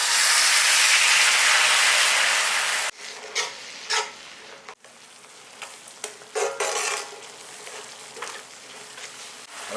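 Water poured into a pan of hot gravy erupts in a loud, steady sizzling hiss for about three seconds, then settles into quieter crackling and bubbling with occasional louder spits.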